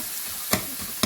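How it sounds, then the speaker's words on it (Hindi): Coarsely crushed roasted peanuts fry in a pan, a soft continuous sizzle broken by two sharp scraping stirs, close and moderately quiet, with no talk. "इसे अब इसमें फ्राई कर देंगे"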